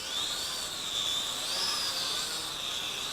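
A small FQ777 958 WiFi FPV quadcopter drone flies with a steady high-pitched whine that wavers slightly in pitch as it moves, continuous and fairly close, with no voices.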